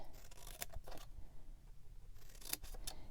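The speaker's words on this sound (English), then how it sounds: "grab some scissors, and we're going to cut all the tabs up to that 1 inch line" A few crisp, brief snips of scissors cutting paper tabs up to a line, spaced apart against a quiet background.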